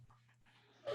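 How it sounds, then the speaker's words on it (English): Two dogs whimper softly and pant close by in a quiet indoor room, faint and breathy with a brief louder burst at the end. "Dogs."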